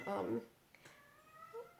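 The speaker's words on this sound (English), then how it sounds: "Notice the meowing." A cat gives a clear, close meow at the start, followed by quieter background sounds and a faint later mew.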